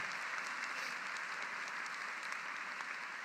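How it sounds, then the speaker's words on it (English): A law school commencement audience applauds, a faint, distant but steady wash of many hands clapping, continuous and even. "Let's have a round of applause for them."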